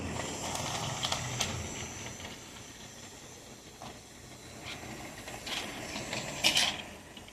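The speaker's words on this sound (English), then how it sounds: "let's run some trains" A small model train runs with soft mechanical rattling and hiss, steady throughout, with a few brief clicks and squeaks near the end.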